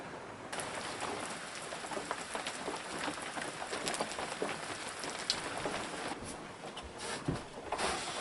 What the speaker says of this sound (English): It's raining outside. It's been raining for 2-3 hours now.